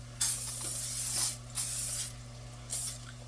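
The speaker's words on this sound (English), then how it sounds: "spray my 9x13, well, a little bit bigger 9x13 pan with canola oil" Three bursts of canola oil cooking spray hiss close by onto a 9x13 baking pan, the first long and the next two shorter, over a low steady electrical hum.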